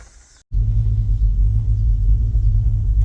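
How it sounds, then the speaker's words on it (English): A steady, loud low rumble of a 1966 Ford Falcon's engine and road noise starts abruptly after a brief quiet moment and continues evenly, sounding like driving inside or near the car. "I'm gonna drive past there with the car."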